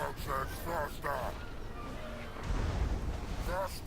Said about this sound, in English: Right now the Hell Cannons are firing into my Orc Biggins